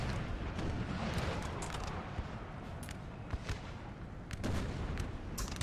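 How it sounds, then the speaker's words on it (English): Artillery in a Napoleon: Total War battle booms repeatedly over a dense, continuous rumble of gunfire, with sharp broadband cannon reports at irregular intervals, loud and close throughout. "Artillery still firing here, trying to kill as many French as possible."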